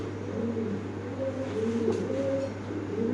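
Pigeons coo softly and repeatedly in low, throaty phrases over a steady electrical hum, with no voices present.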